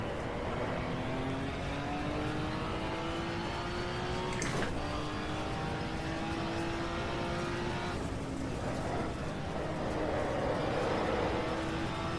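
Touring cars race around the Thruxton circuit during the 1987 British Touring Car Championship, engines droning steadily with rising and falling pitch as cars pass at a distance, a continuous wash of motor noise with no talk.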